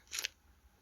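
A single quick camera shutter snap in a horror video game, a short crisp click close up and alone.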